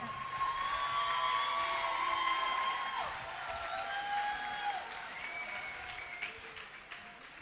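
A crowd at a singing-group competition claps together, a soft, distant spread of applause with a few whistles and whoops riding over it, staying fairly even before easing slightly.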